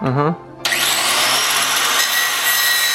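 An angle grinder with a depressed center wheel grinds a flared link on a motorcycle chain for a 2023 Ducati Panigale: a sudden, loud, steady harsh grinding shriek that starts after a brief voice and continues unbroken.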